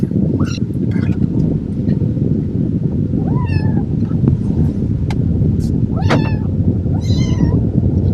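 A small kitten meows repeatedly in short, high, plaintive cries over steady low rumbling background noise, fairly close.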